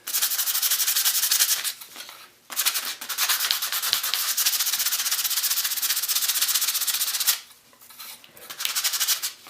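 Steady, loud scratchy rubbing of 220 grit sandpaper sanding a copper circuit board, in long continuous strokes with two brief pauses, heard alone up close.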